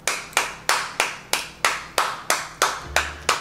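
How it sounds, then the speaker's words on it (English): Hands clap alone in a kitchen, about ten sharp, evenly spaced claps in a steady rhythm, close and fairly loud with no talk. "Sometimes you gotta clap for yourself."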